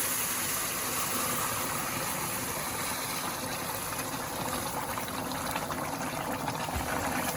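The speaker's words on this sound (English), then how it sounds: "So just adding the water, be careful," Water poured into a hot pan of frying akhni ingredients, giving a steady, loud, broad hiss and bubbling sizzle that holds evenly throughout with no talk over it.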